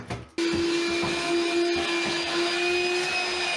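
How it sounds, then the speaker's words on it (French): A small DeWalt vacuum cleaner switches on abruptly and runs loud and close with a steady high-pitched whine and motor drone, continuous after a brief quiet start. "Alors ça c'est un petit aspirateur DeWalt."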